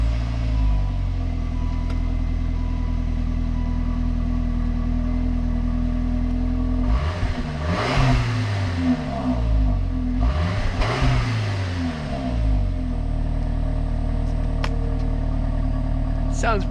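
A straight-piped Saab 9-5 with a salvage history, started cold and revved: a loud, raspy, steady idle broken by two sharp throttle blips that rise and fall back, with people talking over it.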